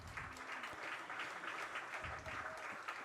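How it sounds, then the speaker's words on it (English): A baseball crowd at an American Legion game, Breckenridge Post 53 against Wahpeton Post 20, applauds steadily for a few seconds, a broad, dense wash of clapping heard from a distance with no voices over it. "Please help us in showing our appreciation to them with a nice round of applause."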